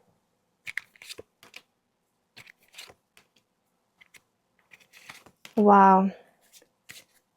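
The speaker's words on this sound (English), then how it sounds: "Let's just pull one more card." Tarot cards are shuffled and drawn in short papery bursts of riffles and snaps, ending in one loud riffle shuffle, with a brief exclamation from a voice.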